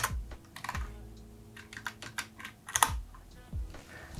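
Close-up typing on a computer keyboard: a steady run of crisp, uneven key clicks with a few heavier thumps, like the spacebar or enter key, and no talking.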